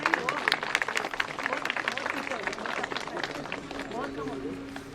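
Applause at a period-awareness and health camp, many hands clapping in a dense, steady patter through the whole stretch, with crowd voices and chatter mixed in.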